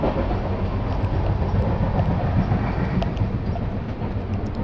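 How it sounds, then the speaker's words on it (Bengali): Shatabdi Express train running just after leaving Ranchi, heard from inside an AC chair car as a loud, steady rumble with a faint rhythmic clatter of the wheels and no talk. "রাঁচি থেকে ট্রেন ছেড়ে দিয়েছে।"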